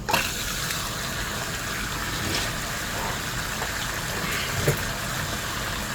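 Water runs through a gold panning sluice set up in a basement, its flow controlled by a meter, making a steady close rushing wash that holds constant throughout.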